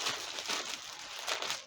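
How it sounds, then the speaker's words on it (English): A plastic bag crinkles and rustles in a few close, quick bursts as it is wrapped around celery to seal it, with no talk over the sound. "and I put the plastic bag"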